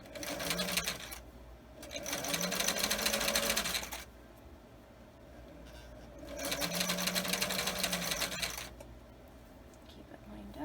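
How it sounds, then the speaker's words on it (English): Sewing machine stitching along just outside the fold of a camisole in two sustained bursts separated by short pauses, close and fairly quiet, with faint background noise. "just sew along just outside the fold"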